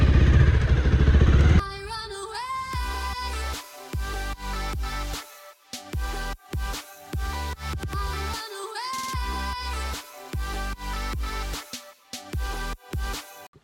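A Bajaj Pulsar motorcycle struggles up a steep sand hill, its engine revving hard in repeated bursts with clattering and brief drops between throttle pulls, close and loud throughout.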